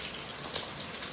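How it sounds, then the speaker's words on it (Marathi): Heavy monsoon rain falls outside at night in Konkan, making a dense, steady hiss with faint drop patter. No one speaks. "बाहेर पाऊस चालू"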